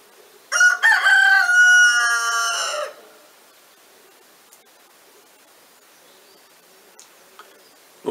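A rooster crows once, loud and close, a long strained call lasting over two seconds, followed by near silence with a few faint clicks; the bird is hoarse.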